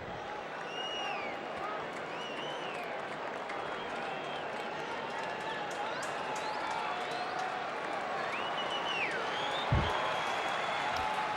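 A baseball stadium crowd at an Orioles vs Giants game cheers and applauds steadily through a tense at-bat, a dense, sustained roar with whistles rising over it, with a commentator talking throughout.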